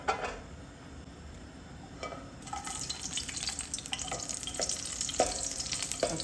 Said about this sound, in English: I'm gonna heat some oil and I'm gonna just slightly fry these dry red chilies.